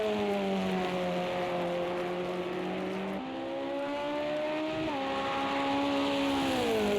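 A Porsche race car engine in a Monza endurance sim-racing game drones steadily with rising harmonic pitch, dipping and shifting at gear changes around three and five seconds, loud and continuous with no talk.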